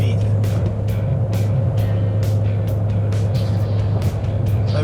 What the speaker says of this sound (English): we're doing 100 kilometers an hour. Again, the car's doing 1500 RPM.